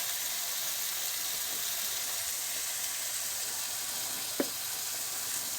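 Steady sizzling of batboti beans frying in a pan, a constant hiss with one brief sharp pop near the end.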